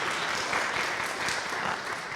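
Audience applause fills a town meeting hall, a steady dense clatter of many hands clapping throughout, with a faint voice underneath.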